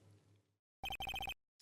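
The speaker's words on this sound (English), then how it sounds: "And what is with this stupid sounding ringtone?" A phone ringtone from the video game Ace Attorney: Justice For All plays as a short, rapid burst of bright electronic trill pulses, loud and clean after a brief faint passage, then cuts off.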